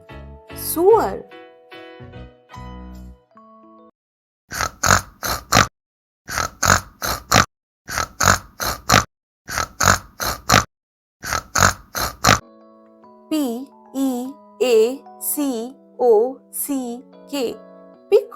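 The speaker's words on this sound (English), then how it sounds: "P-I-G, pig" A pig gives a series of short, rhythmic oinks and grunts, loud and close, with a brief voice before them and a melodic passage after.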